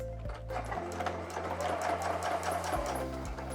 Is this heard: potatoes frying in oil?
no